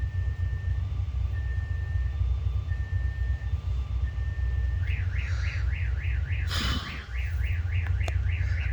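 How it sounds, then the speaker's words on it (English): A car alarm sounds over a steady idling engine, first with repeated short steady tones, then switching to a fast warbling siren pattern, with a brief loud clatter partway through. "That's why you're hearing all the alarm noise."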